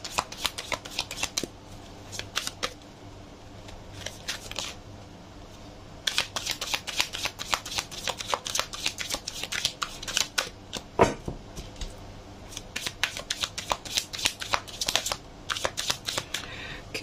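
Tarot cards being shuffled by hand, close and crisp, with rapid riffling bursts and soft slaps coming in repeated runs separated by brief pauses, with no talking.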